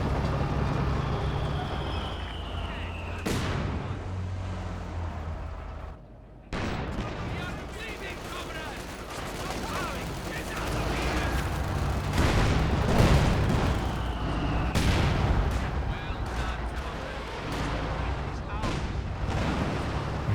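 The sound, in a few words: Katyusha rocket artillery barrage in the video game Company of Heroes 2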